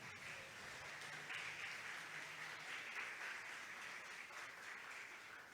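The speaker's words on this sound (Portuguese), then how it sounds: "Você pode aplaudir o que merece glória." Steady applause from a church congregation during a sermon, a continuous, even wash of clapping with no talk over it.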